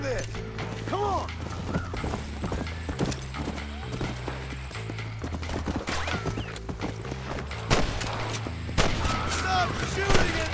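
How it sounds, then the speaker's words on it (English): Gunfire in Red Dead Redemption, scattered sharp shots cracking amid steady horse hoof clip-clop, creaking saddle and wagon sounds, with someone shouting in between. "Stop shooting at me!"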